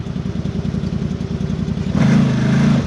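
A CFMOTO Z-Force 950 side-by-side engine slipping between gears, starting with a rapid rhythmic chugging clatter and then jumping into a louder, sustained revving whine, close up.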